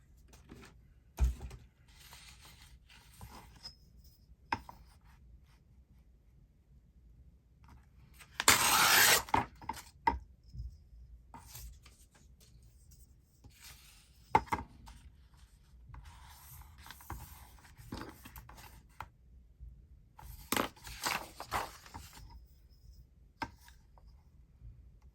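Paper being torn for a journal's book cover makes two short, rough ripping bursts well apart, set among quieter rustling, handling noises and small taps in an otherwise quiet room.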